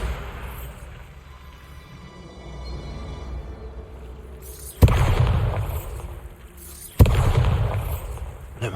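Two heavy blasts from the Bombarda spell in the video game Hogwarts Legacy go off several seconds apart, each a sudden loud boom with a rumbling tail, after a quieter lead-in.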